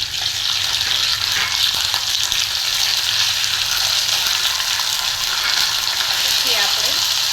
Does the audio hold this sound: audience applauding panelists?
no